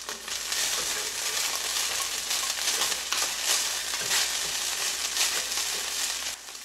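Broccolini and thin-sliced large garlic frying in about a tablespoon of olive oil in a pan, a steady close broadband sizzle with crackling bursts throughout, no voices.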